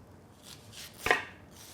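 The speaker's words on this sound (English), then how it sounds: "Up next, we will chop 1 onion that we harvested out of the garden." A single knife chop cuts through a homegrown onion on a board, one short crisp thud in a quiet kitchen with no talk.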